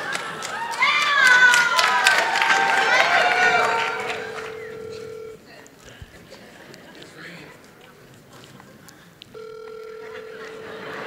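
A phone call is placed over a loudspeaker to a crowd at a festival award event: steady ringback tones sound after people talk and the audience murmurs, with pauses of quiet in between.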